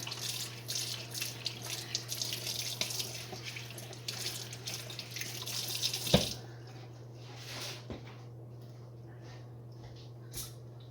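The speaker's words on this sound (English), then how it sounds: "Let me rinse it off and see what I can do with it." A kitchen scoop is rinsed under a running kitchen tap, with a steady close rush of water and splashing that thins out partway through, leaving a few sharper clinks and drips.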